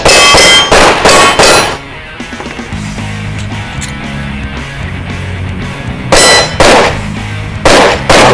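Gunshots in a shooting competition, with steel targets ringing: a burst of loud sharp shots at the start, a lingering metallic ring, then another quick string of shots near the end.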